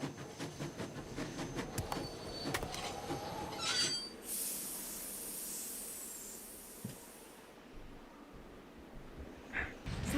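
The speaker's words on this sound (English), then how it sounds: "Sounds like the train's leaving." A steam train pulls away in the video game Nancy Drew: Last Train to Blue Moon Canyon, with faint rumbling and clanks, then a long burst of steam hiss in the middle. The whole sound stays fairly quiet.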